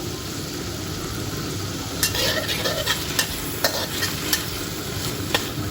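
Squid stir-fried with lemongrass in a hot pan, a steady sizzle under repeated sharp scrapes and clinks of a spatula against the metal, close and alone without talk.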